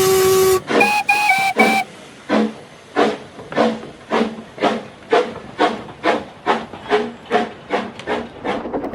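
A cartoon steam locomotive blows a few sharp whistle blasts, then settles into a steady, rhythmic chuffing of regular puffs that carries on alone without talk.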